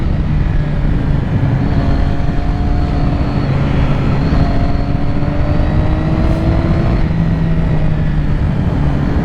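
A super sport motorcycle, a 2006 Triumph Daytona 675 or 2007 Yamaha YZF R6, is ridden at steady speed, engine droning loudly under heavy rushing wind noise without a break.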